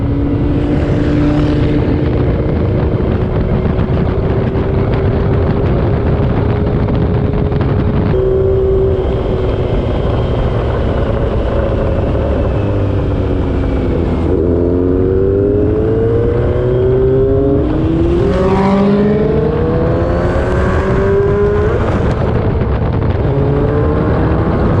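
A street-legal car's engine roars loud and close as it pulls away at full throttle, revving up through rising gear changes and staying at a continuous heavy drone throughout.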